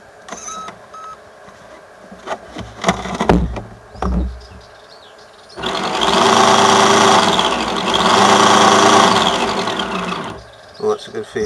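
Graupner RC model outboard motor runs on test, with a close, buzzing electric whine that rises and falls twice over several seconds, preceded by scattered handling clicks and thumps.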